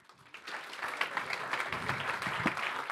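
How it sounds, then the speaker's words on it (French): Audience applause at a talk on agricultural carbon credits, a dense steady clapping from a crowd that swells in the first half-second and holds evenly for about three seconds. "On peut les applaudir."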